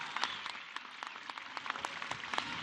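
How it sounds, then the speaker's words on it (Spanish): A crowd claps for the governor of Querétaro at a Beca Universal Benito Juárez event in El Marqués, a sustained, moderately distant round of applause with dense, steady clapping and no voices heard. "brindarle un fuerte aplauso al gobernador del bello estado de Querétaro, al gobernador Curi"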